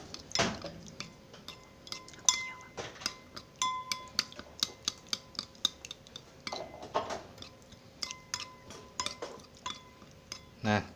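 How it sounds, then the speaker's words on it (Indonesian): Egg mixture is stirred in a bowl with a utensil, giving repeated light clinks and taps against the rim in an uneven rhythm, close and fairly faint, with a few sharper knocks. "Kita aduk lagi."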